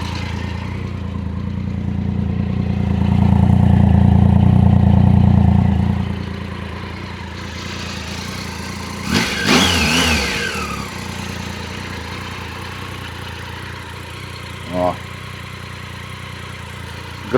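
A motorcycle engine turning over, catching and settling into a steady idle, with a short burst of revving and one brief blip later, heard up close with no talk over it.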